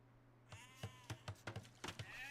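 Sheep bleating in Age of Empires II, about eight short, nasal bleats coming in quick succession over a low steady hum, close and clear with no talk.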